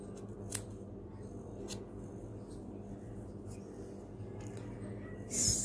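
Scissors snipping through a woolen tassel, a few sharp isolated cuts spaced out over a quiet room background, close and crisp.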